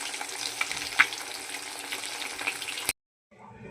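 Pabda fish frying in a pan for a kalia curry, with a close, crackling sizzle and occasional louder spits that cut off abruptly into silence, followed by a faint brief sound.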